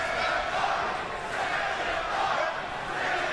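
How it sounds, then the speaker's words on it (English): At a PFL MMA arena, a big crowd chants steadily in a continuous, dense roar with no breaks, while a commentator talks over it. "The crowd chanting, stand him up."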